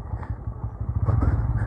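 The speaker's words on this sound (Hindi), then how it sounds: "पूरी बाइक स्लिप हो रही है," A motorcycle rides over a badly broken, slippery road, its engine chugging in uneven pulses with rattling clatter and wind, loud and close.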